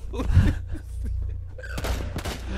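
Gunfire in the video game Rainbow Six Siege, bursts of shots and thuds over a steady low rumble, loud and close, with brief voice sounds mixed in.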